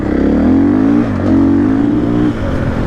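Enduro motorcycles ride just ahead on a trail ride, their engines loud and close, with rising revs that dip around the one-second and two-and-a-half-second marks before climbing again.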